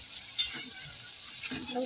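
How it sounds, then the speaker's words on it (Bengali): White onions fry in a pan while chicken kasha is being cooked for dinner, giving a steady hissing sizzle with a few soft stirring scrapes. Voices are faintly audible underneath. "পেঁয়াজটা ভাজা ভাজা হয়ে যাক"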